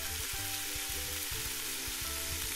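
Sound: peas boiling in a pot of water

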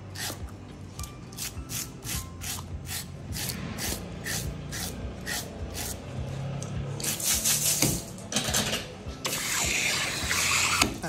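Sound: scaling hake fish

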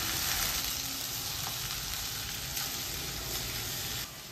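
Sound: mixing chopped okra frying in a pan

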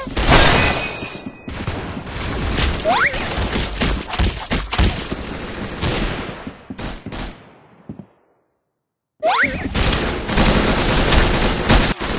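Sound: gunfire in Roblox Arsenal video game

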